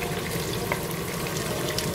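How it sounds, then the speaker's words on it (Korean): Pork fat sizzles and crackles steadily in a hot pan at a campsite, a constant close frying hiss with no talking. "돼지 비계를 튀기듯이 볶아주시고"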